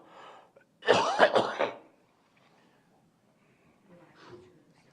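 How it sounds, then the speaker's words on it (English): A short burst of harsh coughing in a courtroom hearing, two or three rough barks close together, with faint murmuring before and after. "Excuse me, my coughing here."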